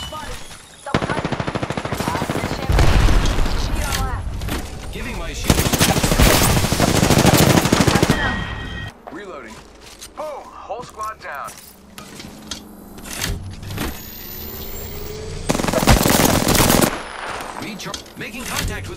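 Heavy automatic gunfire in a shooter video game, long loud bursts of rapid shots separated by quieter stretches of game sounds and intermittent voices.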